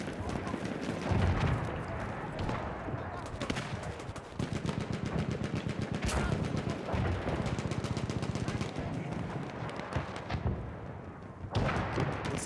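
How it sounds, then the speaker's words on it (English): Rapid gunfire from the Battlefield 1 video game rattles in dense bursts against a busy battlefield din, with a few sharper loud cracks standing out between stretches of continuous shooting. "Those shots are definitely coming from there."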